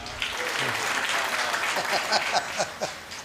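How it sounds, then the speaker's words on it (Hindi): Audience members at a Hindi comedy stage show clap in a moderate, scattered burst, with a voice and a little laughter mixed in among the sharper individual claps. "तो एक बार ताली बजा दीजिए।"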